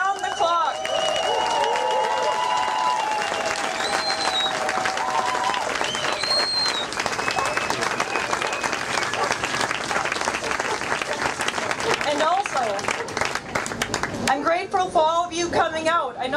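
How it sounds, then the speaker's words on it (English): An outdoor crowd at a Stop Monsanto rally in Berlin applauds the crew with sustained, dense clapping for the whole stretch, mixed with crowd voices and some cheering. "this crew here deserve a big round of applause"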